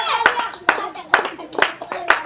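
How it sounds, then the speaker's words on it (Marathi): Rhythmic clapping in a classroom, five sharp, evenly spaced claps by a group, with a voice faintly in the background. "वा वा वा, टाळ्या वाजवा"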